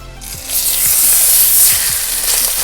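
A salted chicken breast, butterflied and laid flat in a hot pan, sets off a loud, close, hissing sizzle that swells over a couple of seconds and stays strong, without any talking.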